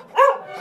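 A single dog bark from a children's audiobook of a Persian folk tale, one short bright yelp at close range with no talk over it.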